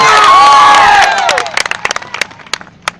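A crowd at a political rally in Gujarat roars and cheers loudly, then the noise breaks into scattered, fading claps that trail off over the last seconds.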